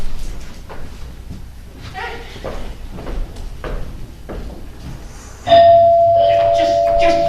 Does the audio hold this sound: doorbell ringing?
yes